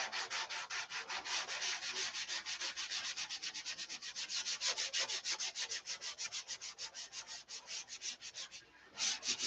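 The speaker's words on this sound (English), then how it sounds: "The Zen of Sanding." Steady back-and-forth strokes of sandpaper rubbing on wood, a rapid, even rhythm of hissy scrapes, close and moderately quiet, continuing alone throughout.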